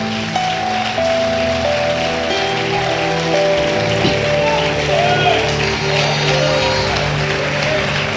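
A church congregation claps in a dense, rain-like patter that continues for several seconds, while sustained organ or keyboard chords and a voice sound over it.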